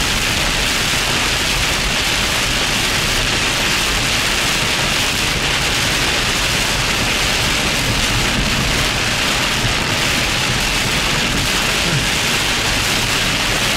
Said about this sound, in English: that was our last bit of heavy rain here.